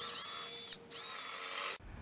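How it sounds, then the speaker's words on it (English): A cordless drill spinning a countersink bit into a small wooden rail runs at a steady whine for most of the stretch, with a brief pause near the middle before it winds down, close and alone. "So I've got a countersink bit installed in my cordless drill."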